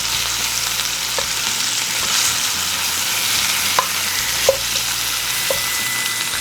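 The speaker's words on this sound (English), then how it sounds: "So I'm just browning the meat side." Pork shank pieces browning meat-side down in a pan, giving a steady, loud broadband sizzle throughout with a few small clicks and taps of a utensil against the pan.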